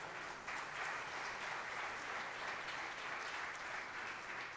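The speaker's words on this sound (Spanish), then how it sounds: "Dele un aplauso al Señor." Congregation applauding during a Sunday church service, a steady, even wash of many hands clapping that holds at a moderate, slightly distant level throughout with no talk over it.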